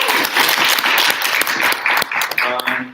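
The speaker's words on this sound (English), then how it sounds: "give one more round of applause to the screening committee" Loud, sustained applause from a crowd at a student senate meeting, dense clapping filling the whole stretch with a few voices and a brief cheer near the end.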